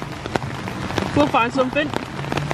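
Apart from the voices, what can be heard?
heavy rain at Animal Kingdom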